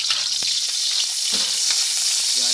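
Ginger sautéing in a pan as the first step of a bamboo shoot dish, a loud steady hiss of hot oil with a few utensil scrapes and knocks, close up and continuous, with no voices.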